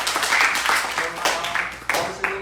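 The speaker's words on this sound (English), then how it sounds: "please give a big applause and say thank you" Young people at a temple summer youth camp give a round of applause, with scattered, uneven claps and voices mixed in, fairly quiet and brief.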